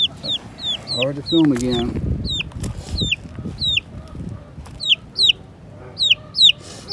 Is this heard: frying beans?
no